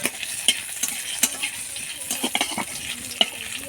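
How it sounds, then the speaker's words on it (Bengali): Cumin seeds and a dried red chili sizzle in hot oil left from frying prawns, a close, crackling spatter with irregular sharp pops over a steady frying hiss. "চিংড়ি মাছের তেলে জিরে আর একটা শুকনো লঙ্কা ফোড়নে দিয়ে দেবো।"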